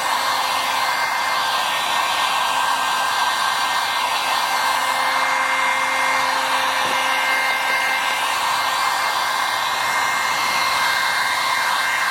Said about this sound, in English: I'm just going to hit it with the heat gun real quick, the old Harbor Freight one